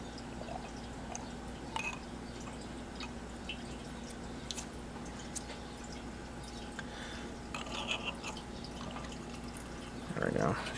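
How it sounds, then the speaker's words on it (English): Fuel draining from the bottom of a generator carburetor, a faint trickle and drips, with someone talking over it. "What this is going to do is going to drain all the fuel out of the bottom of the carburetor."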